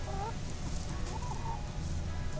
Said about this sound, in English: So chickens, they're looking for grubs, they're looking for bugs